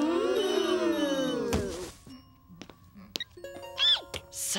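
In a cartoon classroom, a cell phone rings with a few bright electronic tones after a character's animated voice, followed by a soft thunk and more short ringing chirps.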